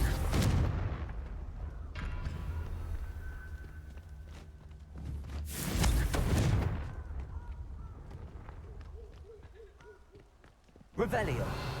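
Confringo fire spell cast in Hogwarts Legacy, heard as a loud whooshing blast with a dense burst around the middle, set among game effects and a spoken voice, then another sharp burst at the very end.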